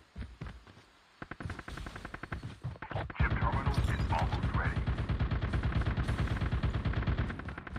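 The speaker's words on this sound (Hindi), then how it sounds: "सब तरफ से फायरिंग की आवाज" Sustained rapid gunfire erupts from all sides in Call of Duty Mobile, starting as scattered bursts and swelling into dense, loud machine-gun fire with overlapping shots and a brief crash.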